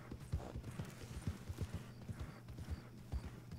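A horse's hooves clip-clop in a steady trotting rhythm in the video game Red Dead Redemption 2, close and fairly soft over a low background hum.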